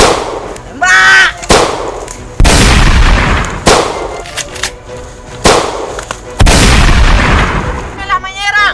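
Gunfire in a Javanese short film comes as about six loud, sharp blasts at irregular intervals, each decaying quickly, with shouting voices heard between them.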